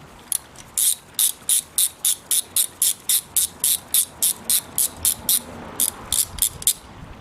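Ratchet wrench cranking out a spark plug on a Toyota Avensis, about twenty sharp evenly spaced clicking bursts in a brisk rhythm, close and loud, with a short pause before the final few strokes.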